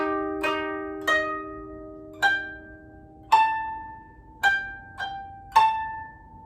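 A koto plays the beginner phrase Usagi (Rabbit), seven clear plucked notes rising and falling at an unhurried pace, each with a bright attack and a ringing decay, close and alone with no talk.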